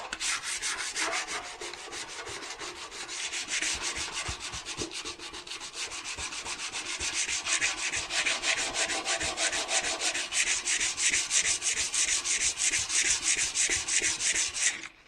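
Continuous rhythmic scraping of sandpaper rubbing back and forth on motorcycle bodywork, close up, growing slightly louder and faster toward the end.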